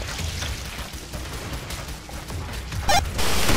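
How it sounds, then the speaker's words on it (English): Mechanical clicks and clacks of a weapon reload with a fresh magazine in the game Killing Floor, a quick series of metallic handling sounds over game background noise, ending in a sharper snap. "Watch it, I'm reloading. New mag."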